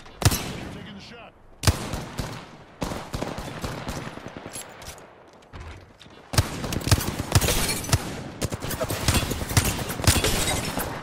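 Dense gunfire in the Apex Legends video game, bursts of rapid shots and explosive cracks packed together, with a brief lull before heavier sustained firing resumes, loud and close.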